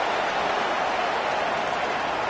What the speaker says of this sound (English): Off we go through the rain here in Jacksonville.